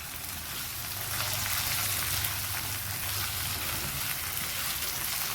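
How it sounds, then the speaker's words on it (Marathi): Chopped tomato frying in hot oil for a potato fry masala gravy: a dense, steady sizzle and crackle, close and constant throughout, with no talking. "साधारण 2 मिनिटं फ्राय होऊ द्यायचं तेलामध्ये।"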